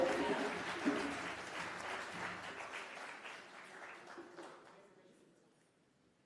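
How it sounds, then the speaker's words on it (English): Crowd applause at a Malcolm X commemoration evening, a thick burst of clapping and cheering that gradually thins and fades out over several seconds. "Another round of applause for El-Shabazz"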